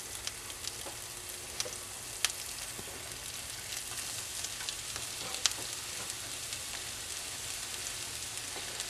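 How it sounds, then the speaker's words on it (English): Mushrooms and onions sizzle in melted butter in a pan, a steady close frying hiss with scattered pops and light stirring taps, no voices. "Should be sizzling."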